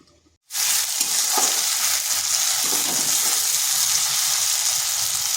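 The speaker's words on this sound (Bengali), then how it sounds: "পেঁয়াজটা ভাজা হয়ে গেছে।" Onions frying in a pan, a loud, steady sizzle that erupts suddenly after a brief quiet moment and continues evenly, with faint stirring scrapes mixed in.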